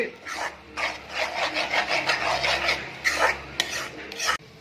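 A utensil scraping and stirring egg and netthallu, small dried fish, in a pan until dry, a steady run of close rasping strokes in quick rhythm, alone without talk.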